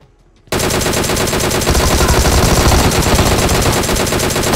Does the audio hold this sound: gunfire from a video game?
yes